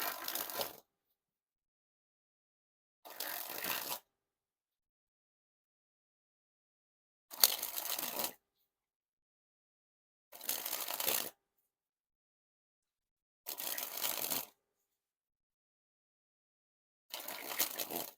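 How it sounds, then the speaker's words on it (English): Theory11 Blue Charity Water playing cards are sprung and shuffled in six short crisp riffling bursts, each about a second long, separated by silent gaps of two or three seconds, close and clear without talk. "time to test the handling. And first we'll start with"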